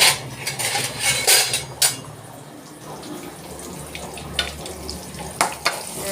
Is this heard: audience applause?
no